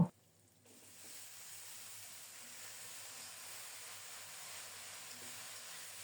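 Chopped green chilies, salt and spices frying in a pan give off a steady, faint, soft sizzling hiss that holds evenly after a brief knock at the start.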